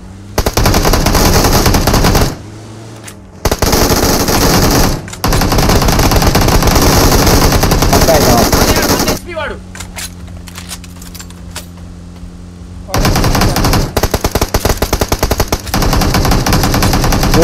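Rapid automatic gunfire from a video game gun comes in long, loud, dense bursts. There is a short pause near the start, then a quieter reload and mechanical stretch in the middle before the firing resumes. Nobody speaks.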